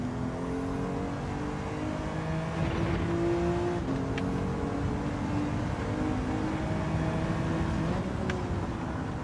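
Road car on Sports Soft or Comfort Soft tyres racing in Gran Turismo 7, engine droning steadily with rising and shifting revs, continuous and fairly loud with no talk.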